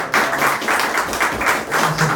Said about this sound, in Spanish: lo acompañamos con un pequeño aplauso.